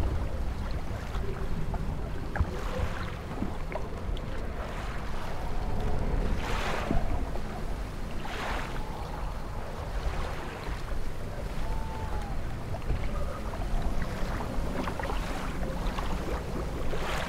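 Ocean waves wash around a small boat in the video game Dredge, a continuous windy sea rumble with soft swells rising and falling, and a few faint creaks and distant calls over it.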